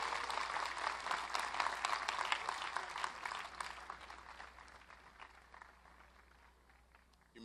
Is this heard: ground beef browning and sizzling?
no